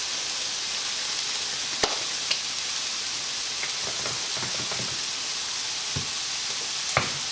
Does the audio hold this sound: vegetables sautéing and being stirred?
yes